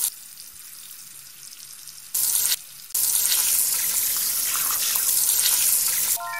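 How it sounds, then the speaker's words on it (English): Running tap water in a kids' cooking video game where vegetables are washed for soup; a quiet hiss gives way to a loud bright rush of water that cuts off briefly, then flows again steadily until stopping. "Drag a vegetable under the running water to wash it."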